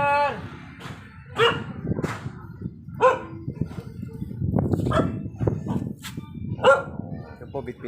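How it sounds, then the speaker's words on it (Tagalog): Several dogs bark repeatedly at close range in an outdoor neighborhood, sharp yaps recurring every second or so with a steady murmur of background noise between them. "Maraming aso."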